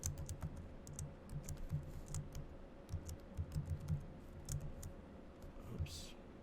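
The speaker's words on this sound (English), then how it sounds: "I've got a very peculiar keyboard here" Quick bursts of typing on a computer keyboard, close and crisp clicks in uneven runs with short pauses, a quiet electrical hum underneath.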